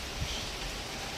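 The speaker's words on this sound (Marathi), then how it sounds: "तर पाऊस कमी जास्त होत आहे" Rain falling outdoors makes a steady, even wash of hiss with a faint soft thump early on, continuous through the short moment with no voices.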